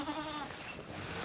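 Goats bleat inside a homestead barn in western Kentucky during a snowy ice storm. A few faint, wavering cries come at the start over a steady background hiss.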